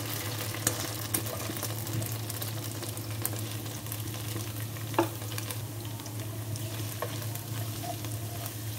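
Carrots frying for chicken chowmein, a dense, even sizzle close by with occasional spatula taps and stirring clicks, without any voices.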